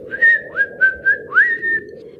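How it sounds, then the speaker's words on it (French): A person whistles a short tune of five or six clear, sliding notes at close range, with no other sounds around. "Siffler en travaillant."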